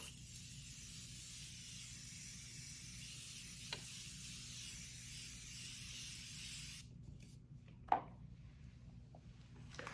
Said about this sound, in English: now I'm gonna go in with the Morphe Jumbo Continuous Setting Mist